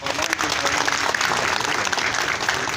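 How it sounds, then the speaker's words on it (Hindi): Loud, sustained audience applause fills the hall at a district crime prevention committee meeting held at the Reserve Police Lines during the Magh Mela at Sangam: dense, continuous clapping from many hands. "एक जोरदार तालियों के साथ"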